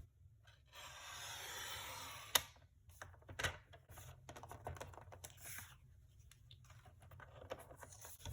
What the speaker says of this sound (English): I'm putting it under my trimmer and cutting it at 1 inch